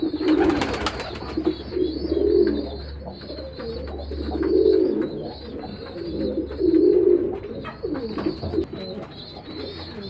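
Domestic pigeons kept in a loft coo in repeated low, soft phrases, several birds close by, with faint chirps and a mild background hum between the calls.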